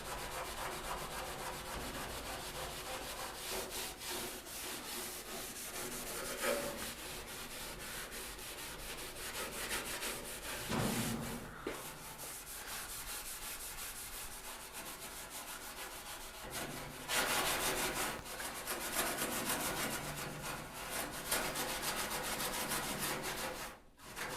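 Scotch-Brite pad scrubbing rusty metal on the inner roof structure of a 1973 Dodge Challenger, wet with OSPHO, giving a continuous back-and-forth abrasive rubbing that stays steady and close throughout.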